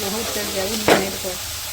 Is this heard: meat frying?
yes